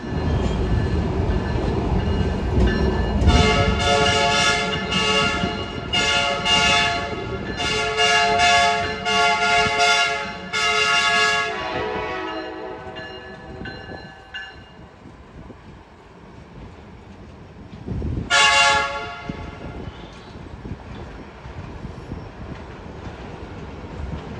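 A CSX freight train pulling the Office Car Special passes near Washington, D.C., sounding a long multi-note horn sequence over steady rumbling wheels, then a final short toot as the rail noise fades.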